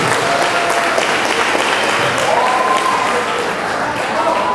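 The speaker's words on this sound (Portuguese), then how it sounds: "peço a vocês uma grande salva de palmas, né? As nossas mulheres" An audience gives steady, dense applause for women martial artists at a International Women's Day presentation, the clapping continuous and loud throughout with faint voices and whistle-like tones mixed in.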